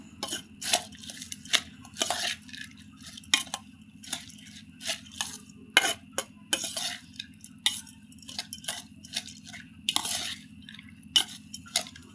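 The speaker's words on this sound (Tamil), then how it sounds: "பொரியோட கலர் சேஞ்ச் ஆகிற வரைக்கும் நம்ம நல்லா மிக்ஸ் பண்ணணும்." Puffed rice tossed with spice masala in a pan for roadside kara pori: dry rustling and scraping strokes of a spoon, repeated in irregular bursts over a faint steady hum, close up with no voices.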